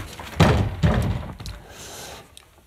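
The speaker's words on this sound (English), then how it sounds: "I wonder if there's anything in this drawer here." An old drawer in an abandoned mansion is tugged open, giving two heavy wooden thunks close by and a fainter rattle and scrape that fades away.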